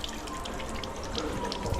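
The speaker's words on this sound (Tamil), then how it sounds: "இதை கையெடுத்தா நிற்கிது தண்ணி வருது பார்த்தீங்களா பன்னெண்டு வருது நிற்கிது இது வந்து சென்சரில் வேலையுது" A sensor-operated tap in a Colombo mall restroom runs in a steady, close splashing stream into the sink for a couple of seconds.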